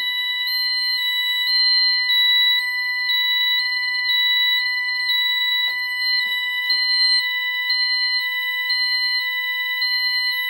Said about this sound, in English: Now you hear the keypad yodeling, meaning it's in alarm.